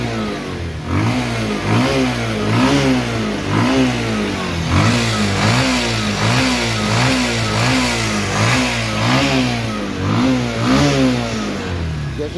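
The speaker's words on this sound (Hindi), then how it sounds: "मैं बाइक आपको स्टार्ट भी करके दिखाता हूँ" A Bajaj Pulsar 150 motorcycle engine with a faulty right-side engine mounting causing heavy vibration runs steadily at close range, its throttle blipped in a regular pulsing rhythm of repeated revs throughout.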